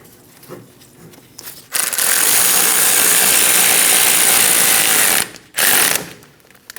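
A ratchet spins rapidly and continuously, snugging wheel hub bolts on a 2008-2015 Scion xB during a front wheel bearing and hub replacement, loud and close, with a brief pause before a final short burst.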